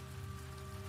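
Steady rain in the video game The Last of Us Part II, a soft continuous hiss of falling water at low volume with a faint low hum beneath and no talk.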